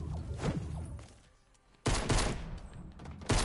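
Gunfire in the video game Fortnite: a burst of rapid shots, then a quieter lull, followed by loud, dense blasts of fire that return near the end.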